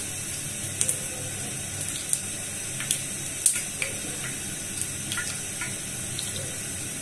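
A drop of water hitting hot frying oil in a home kitchen, heard as a run of sharp, scattered crackles and pops that come in small bursts over a steady background hiss, each one brief and fairly close.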